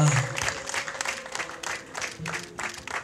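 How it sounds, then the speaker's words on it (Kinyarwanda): At a Rwandan wedding, guests burst into applause in waves of clapping that rise and fall, with a brief voice at the start. "mwabahaye amashyi"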